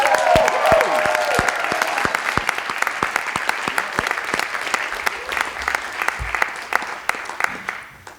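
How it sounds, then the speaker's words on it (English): An audience applauds at a physical therapy white coat ceremony, a dense, steady round of clapping that fills the space and gradually thins toward the end. "How about one more big round of applause for everyone?"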